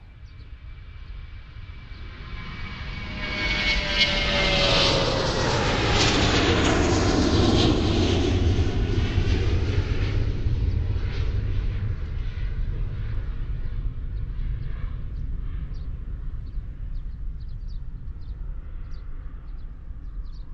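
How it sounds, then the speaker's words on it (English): A fixed-wing airplane passes overhead outdoors, its engine roar swelling from a faint approach to a loud, broad rumble at the midpoint and then slowly fading away, with no voices. "For me, I love recording airplanes."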